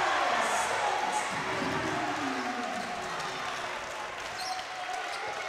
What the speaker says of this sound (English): You hear the crowd getting into it.